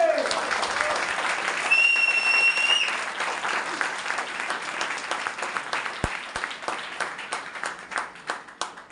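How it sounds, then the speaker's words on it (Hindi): Hall audience at a direct selling plan presentation breaks into loud applause that gradually thins into scattered claps, with a brief tone and speech underneath. "उसके बाद जोरदार ताली होनी चाहिए।"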